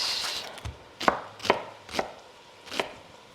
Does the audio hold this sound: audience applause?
no